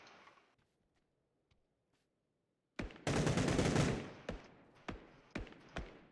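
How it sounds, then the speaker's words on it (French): Video game gunfire breaks out after a near-silent stretch: a dense automatic burst followed by several sharp single shots, close and loud with no talk. "on me tire dessus aussi"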